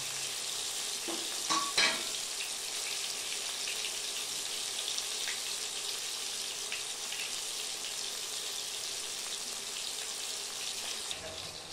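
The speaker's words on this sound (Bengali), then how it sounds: "ভাজা হচ্ছে।" Chopped onion, tomato and whole garlic fry in a pan for a chicken liver and gizzard dish, a soft continuous sizzle with a few brief scraping stirs near the start, fairly quiet and without talk.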